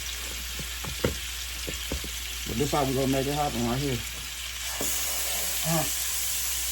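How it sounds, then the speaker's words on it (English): Butter sizzling in a hot pan on the stove for searing chicken, a steady hiss running throughout at moderate level while someone talks over it. "You hear that noise right there? That's the butter."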